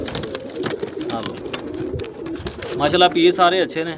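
Breeder pigeons in Faisalabad coo softly in the background while someone talks over them, with a burst of clearer, louder cooing near the end.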